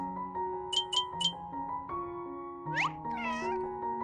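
A cat meows several times, short clear cries over a background tune of steady tones, followed by a longer rising and wavering meow toward the end.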